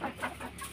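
Hens clucking on a Vietnamese family poultry farm, a quick run of soft, close clucks and low throaty calls with no talking.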